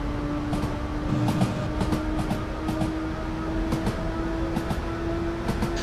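A simulated Japanese 103 Series EMU commuter train accelerates in Train Simulator 2017, with a steady motor whine and a rumble broken by repeated rhythmic clicks of wheels over rail joints.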